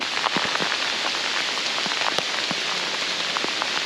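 Steady rain falls in France, pattering densely on a nearby surface with scattered louder drops throughout.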